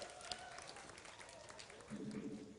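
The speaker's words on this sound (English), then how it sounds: "You can cheer. It's okay, audience." Crowd at a StarCraft II match at DreamHack Open 2013 breaks into brief applause and cheering, moderately loud and mixed with ongoing commentary speech.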